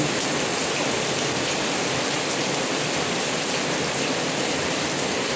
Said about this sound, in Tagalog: Lakas pa rin ang ulan dito.